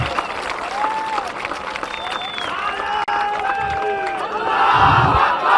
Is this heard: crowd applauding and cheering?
yes